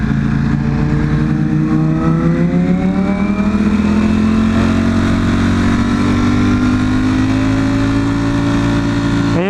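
A sports car engine roars loud and close, its pitch climbing steadily as it accelerates and revs for several seconds without a break.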